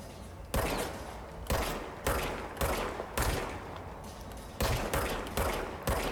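A player's gun firing in the video game Control, with about eight sharp, loud shots in quick bursts roughly half a second to a second apart, each followed by a brief decaying tail.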